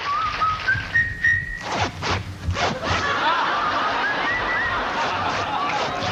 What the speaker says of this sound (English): to a trio that whistled and used their pant zippers to make music